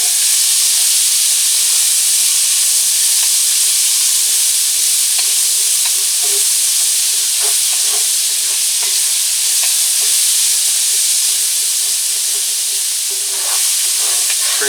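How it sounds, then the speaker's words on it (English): Vegetables sauté in a pan, where flour had been cooking, in a loud, constant hissing sizzle, with soft scrapes and taps of stirring scattered through, close up and without voices. "Saute these up for a few minutes"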